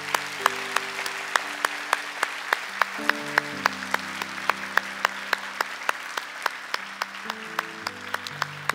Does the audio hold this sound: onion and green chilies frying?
no